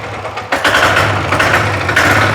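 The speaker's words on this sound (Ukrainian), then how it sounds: "ось так запускається дизель" A Weima WM1100A 6 hp single-cylinder diesel engine catching after a short quiet moment, then settling into a loud, steady chugging run with rhythmic mechanical clatter, close up, with no talking.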